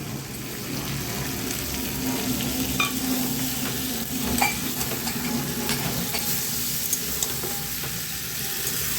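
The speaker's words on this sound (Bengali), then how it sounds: "তো তার সঙ্গে আলুটাকেও দিয়ে দেবো, দিয়ে আমি এটাকে আরেকটু কষে নেব।" Chicken curry with tomato and potato sizzles and fries steadily in a pan while being stirred, a dense continuous crackle with occasional spoon scrapes, close and loud throughout.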